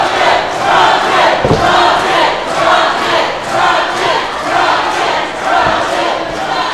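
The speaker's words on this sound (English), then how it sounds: "The World Gym Arena cheering on the Rocket here, Josiah John," A packed wrestling crowd in the World Gym Arena roars continuously during a match, loud and steady, with rhythmic surges like chanting rising and falling throughout.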